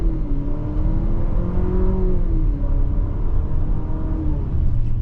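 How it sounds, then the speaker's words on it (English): The VC turbo engine of a 2026 Infiniti QX60 Autograph AWD, a heavy SUV, accelerates hard from inside the cabin, a loud steady drone with a rising then settling engine tone and no talking. "And now we'll check out this VC turbo."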